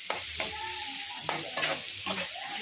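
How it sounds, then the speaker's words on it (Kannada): Sago (sabudana) is stirred and fried in a pan, with a soft steady sizzle broken by several scraping strokes of a spoon against the pan, close and quiet, with no talking. "ಚೆನ್ನಾಗಿ ಸಬ್ಬಕ್ಕಿ ಬಾಡಿಸ್ಕೋಬೇಕು ಫ್ರೆಂಡ್ಸ್."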